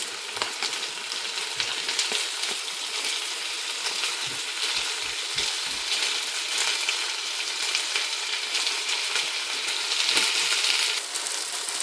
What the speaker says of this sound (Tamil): என்னோட ஜிஞ்சர் கார்லிக் இப்போ நான் போட்டது வந்து நல்லா ஃப்ரை ஆகிட்டு அனியன்ஸும் நல்லாவே சாட்டே ஆயிருக்கு.